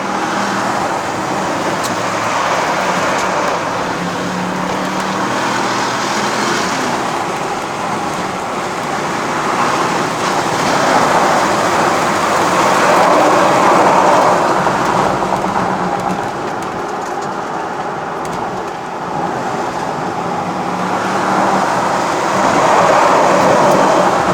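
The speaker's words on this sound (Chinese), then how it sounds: "我开一下那个窗，听一下。 这样才爽嘛 ！V8 的声音出来了啊！" A 2019 Bentley Continental GT V8 engine heard through an open window on a mountain road run, a continuous broad rumble blended with road and wind noise that rises and falls steadily throughout.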